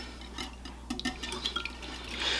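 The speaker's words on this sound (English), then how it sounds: "I'm just going to whisk this together until it's just combined" A whisk clinks against a bowl of egg mixture seasoned with salt and black pepper for a ham and cheese breakfast casserole, quick irregular metallic taps and light liquid swishes, close and moderately quiet.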